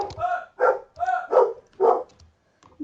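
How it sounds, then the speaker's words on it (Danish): A dog barks indoors, giving about five short, close, fairly loud barks in an uneven rhythm with brief silences between them. "Nu kan I høre min hund."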